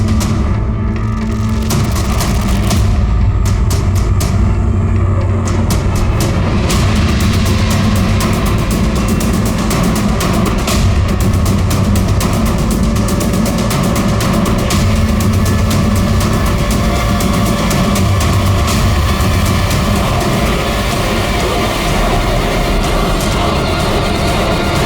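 A faulty motorbike engine runs continuously, a loud, dense, rough rumble with sharp ticking and rattling bursts early on, holding steady close by for the whole stretch.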